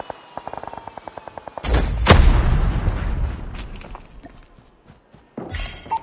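In Call of Duty, a grenade blast follows a rapid run of gunfire clicks, bursting loud and close with a deep boom that decays into rumbling debris and scattered shots.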